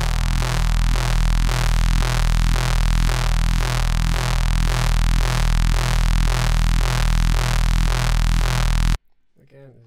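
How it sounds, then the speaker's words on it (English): A thick, buzzy Reese synth bass made in Serum pulses in a steady repeating rhythm, widened and shimmering with a chorus effect, then cuts off abruptly. "so let's throw some chorus on it."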